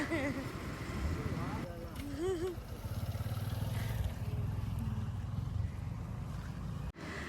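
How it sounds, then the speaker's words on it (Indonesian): A motorcycle shuttle carries riders back to the parking area at Museum Sangiran, its engine a steady low drone through the ride, with a person talking over it. "Tapi shuttle pulangnya kita pakai motor kayak gini."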